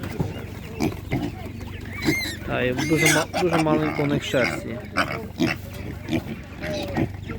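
Piglets grunt and squeal in short bursts at an animal market, close by and loud at times, while a person talks over them throughout.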